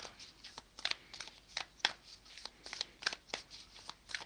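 Tarot cards being shuffled by hand, close and crisp, in a run of quick riffling bursts and slaps with short gaps between them, no talking.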